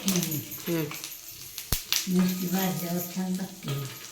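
Green chillies fry in hot oil with a light, crackling sizzle that runs under steady conversational talk, with one sharp pop partway through.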